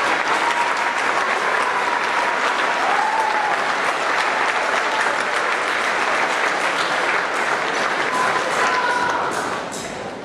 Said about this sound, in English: if we give them a round of applause